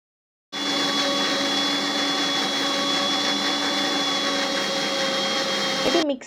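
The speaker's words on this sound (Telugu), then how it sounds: "ఇది మిక్సీ వేసుకున్నాం కదా" A kitchen mixer grinder blending aloe vera gel, switching on abruptly into a steady loud motor whine with a constant hum, then clattering and stopping just before the end.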